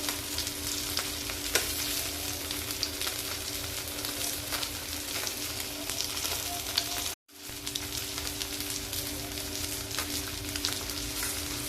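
Surmai fish frying in a pan, a continuous dense sizzle and crackle at close range that runs steadily with one brief dropout partway through, no talking.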